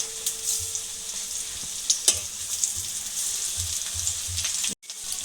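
Chicken pakora frying in hot oil gives a steady, close hiss with scattered crackles and pops, with no talking.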